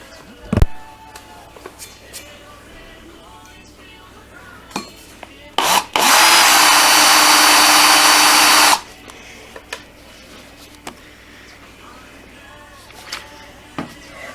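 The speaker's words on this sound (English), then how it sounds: "Let me drill the 3 holes and then I'll show you." One loud, steady burst of power drilling into metal lasting about three seconds, set among quiet clicks and handling noises.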